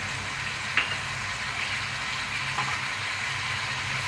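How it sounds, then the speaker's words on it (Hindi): Garlic cloves frying with mutton in a pot give a steady, close sizzle, with a couple of faint clinks from stirring. "अब हम इसके अंदर अपने ये लहसुन के जवे डाल रहे हैं"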